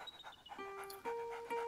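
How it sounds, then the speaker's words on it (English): A dog in A Plague Tale: Innocence gives soft, high, wavering whimpers and whines with light breathy panting, quiet and close. "Primeiro fazer um carinho no dog aqui, né?"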